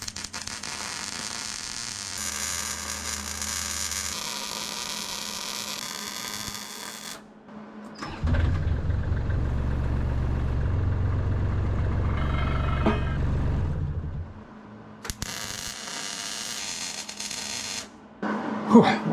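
A small Hobart 140 wire-feed welder runs in bursts on an excavator thumb build, a buzzing electric crackle that starts and stops, with gaps between welds and quiet shop background.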